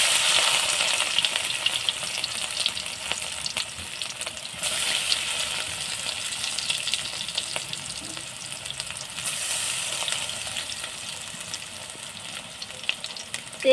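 Stuffed kakrol (spiny gourd) sizzling steadily in a little hot oil, a continuous loud frying hiss with small crackles and the occasional scrape of stirring, close and with no talk.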